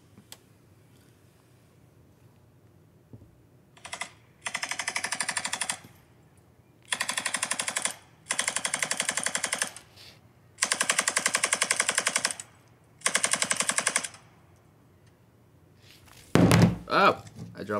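M249 machine gun in the Rust video game firing in several long sustained bursts, a dense rapid rattle of shots with short pauses between, loud and close over a low background hum.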